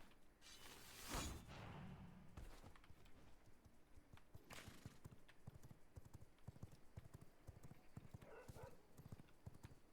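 Horse hooves clip-clop steadily across ground in the V Rising video game, a close, rhythmic clatter lasting throughout, with a brief whoosh near the start and occasional faint game noises.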